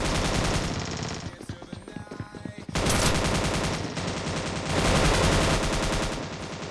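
Automatic gunfire in the Scarfall 2.0 mobile shooter game on the Mumbai map, with dense rapid bursts that briefly break into scattered shots and then resume, loud and continuous.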